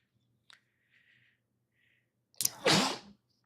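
A single sharp sneeze bursts out close and loud near the end, preceded by faint clicks and quiet breathy sounds in an otherwise quiet room during a business conversation.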